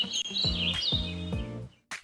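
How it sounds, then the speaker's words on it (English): Birds outside chirp and tweet in high, thin repeated notes over a faint, steady tonal backdrop. The calls are moderately distant and nobody speaks. "Even the sound of birds outside feels like a sweet song"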